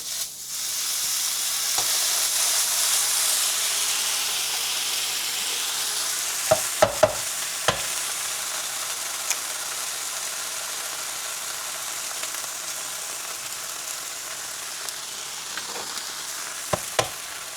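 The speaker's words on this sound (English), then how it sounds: "And then let's cook these eggs right over here." Eggs and turkey bacon fry in a pan with a constant, close sizzle and crackle, broken by a few sharp clicks and clatters of utensils.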